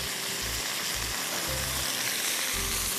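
Constant crackling sizzle of garlic and mustard oil frying in a hot pan, with occasional low thumps from stirring.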